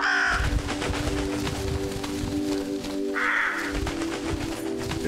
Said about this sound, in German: Raben, die wir verscheuchen können.